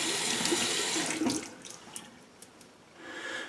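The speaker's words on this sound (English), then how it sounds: "I'm just going to give a quick rinse here to the brush" Running tap water splashing steadily as a pure badger shaving brush is rinsed under it, loud and close at first, then easing before the flow swells again.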